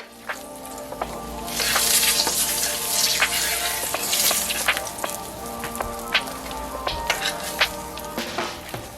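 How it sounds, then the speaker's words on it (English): Salmon fillet sizzling skin side down in a hot pan: a steady, close-up frying hiss dotted with sharp pops and crackles, growing louder after the first moment and continuing without talk. "I'm just flipping over my salmon to the skin side, and I'm going to give that skin a nice crust"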